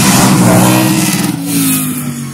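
A Pilbeam hill climb race car at Barbon Hill Climb powers hard out of a hairpin after heavy braking, its engine roaring loud and close with a rising, gear-stepped rev.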